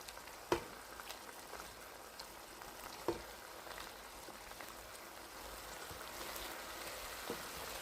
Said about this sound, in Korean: 엿장을 적당량을 해서 자글자글 끓는 거를 이렇게 끼얹어 줘야지